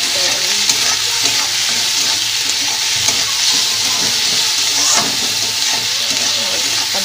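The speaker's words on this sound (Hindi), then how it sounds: "टमाटर को गलने तक पकाना है।" Tomatoes frying loudly in a pan for an Indian rajma dish, with a constant close sizzle and hiss as the mixture is stirred and scraped throughout.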